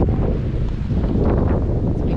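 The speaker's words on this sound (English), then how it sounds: "Well, look at that headwind." Strong headwind buffets the microphone on an open lake during a spring canoe trip in the Algonquin backcountry, a steady loud roar with gusting rustle and faint water sounds throughout.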